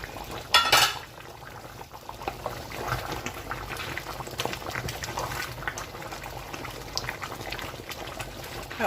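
Bitter leaf soup with cocoyam bubbles steadily in a covered pot, a soft continuous simmering gurgle with a brief clink of the lid near the start.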